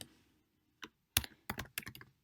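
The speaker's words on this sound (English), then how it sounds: "I'm just going to type my email address" Keys on a computer keyboard tapped to enter an email address, a few sparse clicks and then a quick cluster of close, crisp keystrokes in a quiet room.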